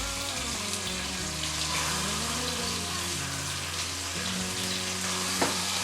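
Crumbled chorizo squeezed from its casing and mashed in hot oil in a pan, giving a steady close-up sizzle and crackle with occasional scrapes as it is stirred.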